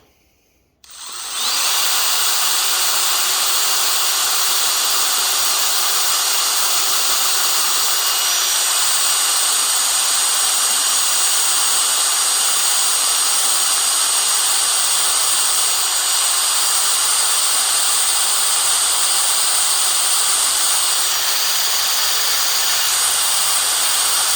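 A power drill drilling into a Mopar 361B engine block starts abruptly and runs steadily at high speed, a loud continuous whine with hissing grind that holds without pause until the end.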